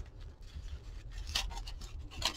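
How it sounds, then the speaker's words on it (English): Close crackling and rustling as a paper book page is crumpled by hand, with sharp crinkles that come in bursts over a soft rubbing background. "I'm going to take this piece of paper. This is a book page. And I'm going to crumple it several times."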